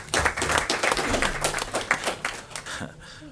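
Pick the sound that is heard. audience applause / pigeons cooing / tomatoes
audience applause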